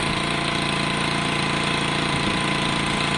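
A Piaggio Fly 125 scooter engine runs steadily nearby, a loud, even mechanical drone with a rapid pulsing beat and no talking.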